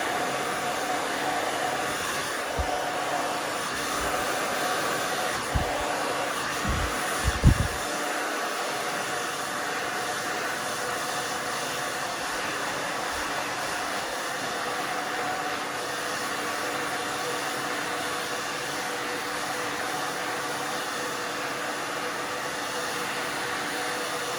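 A hair dryer blows steadily on short hair during a haircut, a continuous close, loud airy whoosh lasting the whole clip. A few brief low thumps occur early on.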